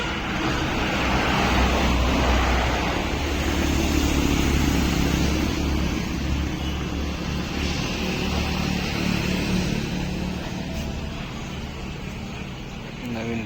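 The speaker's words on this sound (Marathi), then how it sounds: "गाड्यांचा आवाज जास्त येत असेल कारण की हायवेला" Steady roar of traffic on a busy highway, vehicles rushing past continuously, with a voice talking under the noise.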